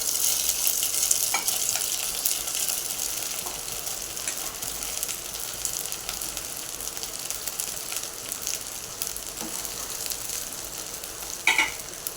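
Sabudana khichdi with half a teaspoon of sugar is stirred up and down in a pan. Steady close sizzle runs throughout, broken by scraping strokes and a louder scrape near the end, with no voices.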